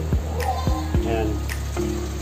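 Carrot pieces dropped into a pot of simmering pork menudo with reduced broth: three or four soft thuds and plops near the start, then a bubbling simmer, with a voice talking over it.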